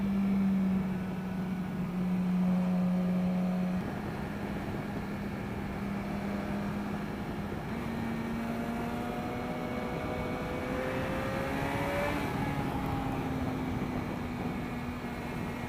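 A motorcycle on twisty roads, its engine droning steadily throughout with pitch dropping and rising as gears shift and the bike leans through bends, wind rush underneath.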